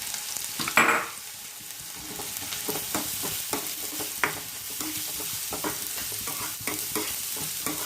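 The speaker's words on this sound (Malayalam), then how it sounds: "നമുക്ക് സവാള ഇട്ട് കൊടുക്കാം സവാള നല്ലതുപോലെ വഴറ്റിയെടുക്കാം" Sliced onions sautéing in hot coconut oil for a Kerala mackerel pollichathu, a steady sizzle with a sharp hiss as they go in, then repeated scraping stirs.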